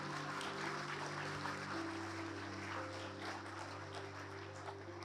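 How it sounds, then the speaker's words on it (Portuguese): A church congregation claps in praise, the applause faint and diffuse, spread evenly under a steady low electrical hum with no voices over it. "Vamos aplaudir ao Senhor por isso."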